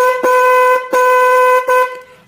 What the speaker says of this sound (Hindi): आज देखिए आपने नॉर्मल हॉर्न जो होता है पॉम्पल, इसकी नॉर्मल आवाज तो आपने सुनी होगी।